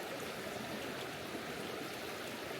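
A woodland creek flows with a soft, continuous rushing and trickling wash, faint and steady throughout, with no voices.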